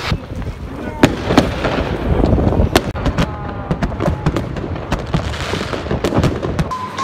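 New Year's Eve fireworks burst in a dense series of sharp cracks and booms outdoors, some close and loud, others distant, over a constant rumble with wind buffeting the microphone.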